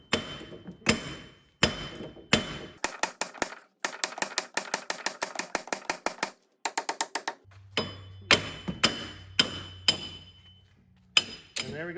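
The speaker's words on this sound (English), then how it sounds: "We're just gonna pound right here and see if we can get it to bust loose." A 5-pound sledgehammer striking a seized front wheel hub on a Chevrolet HHR, sharp metallic blows landing in quick bursts and steady runs with brief pauses, close and loud, with a low hum underneath near the end.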